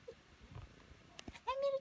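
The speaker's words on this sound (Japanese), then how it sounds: "何がにゃーおなのかな？" A pet cat perched up high gives a short meow near the end, a clear tonal call following some faint rustling and handling noise, close by and fairly loud.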